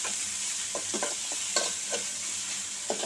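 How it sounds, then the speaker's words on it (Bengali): Sliced onions frying in a pan for a bottle-gourd-peel and potato bhaji, a continuous close hiss broken by soft scraping stirs at irregular intervals, with no voices present. "এবার আমি হালকা ব্রাউন করব পেঁয়াজগুলোকে।"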